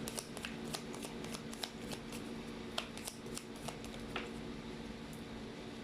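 Tarot cards riffle and snap as a deck is shuffled, a steady stream of soft papery flutters and crisp clicks close by, with no talking over it.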